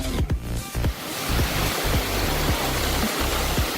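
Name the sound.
small waterfall cascade near Pucon, Chile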